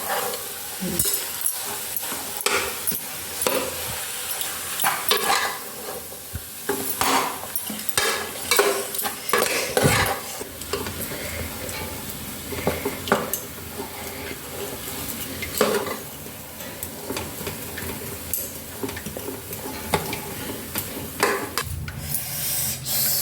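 Vada pav potato filling being stirred and mixed in a pan, with repeated scraping and clinking of a spoon against metal and a faint sizzle underneath, irregular strokes continuing throughout without talk.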